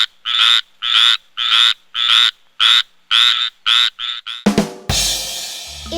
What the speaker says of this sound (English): It's a tree frog.